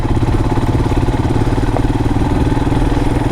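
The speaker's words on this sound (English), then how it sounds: "Good thing about the Himalayan 411, it's an engine which doesn't stall very easily." A Royal Enfield Himalayan 411 motorcycle engine chugs in second gear on a wet green lane, a loud, close, steady low-rev thumping pulse with no break.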